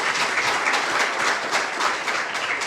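Church congregation giving a round of applause during a sermon, a loud, dense burst of clapping from many people, pulsing slightly but continuous to the end.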